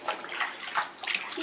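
Water sloshing and splashing in a small tub while a baby is bathed, a steady run of close, soft splashes that rises and falls over a second and a half.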